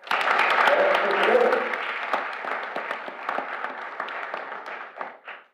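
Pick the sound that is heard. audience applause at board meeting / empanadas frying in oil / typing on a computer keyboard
audience applause at board meeting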